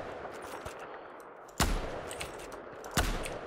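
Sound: sniper rifle firing in Battlefield 4 video game

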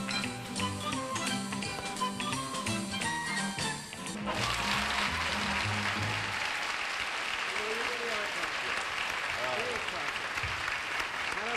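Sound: studio audience applause on a game show

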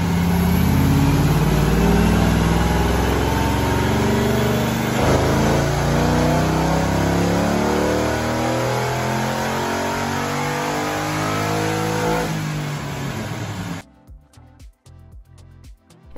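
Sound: Toyota 86 engine revving on a dyno

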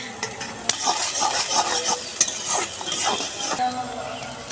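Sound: chopped onions frying in soybean oil in a wok

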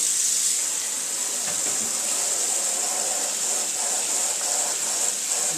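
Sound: water running at sink washing out screen emulsion

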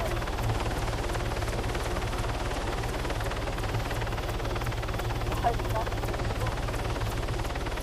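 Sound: helicopter in the video game ARMA 3

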